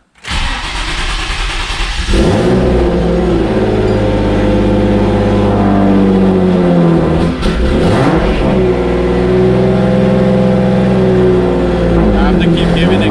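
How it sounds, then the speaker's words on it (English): A misfiring car engine cranks and catches, then idles roughly with an uneven, stumbling rhythm and surging revs, loud and close. "It's gonna sound like I have like a misfire or something going on."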